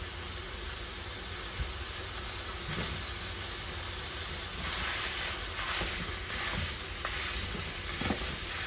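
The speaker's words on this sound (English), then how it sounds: "We're going to start by browning some ground beef." A pound of seasoned ground beef browning in a pan, giving a steady hissing sizzle throughout with occasional faint stirring scrapes and no talking.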